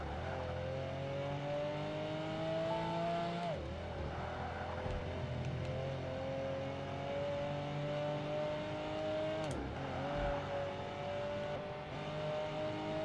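A Porsche 911 2.7 RS in the Project Gotham Racing 2 video game, its engine droning steadily and climbing in pitch through the gears, with two sharp drops at gear changes, loud and continuous with no talk.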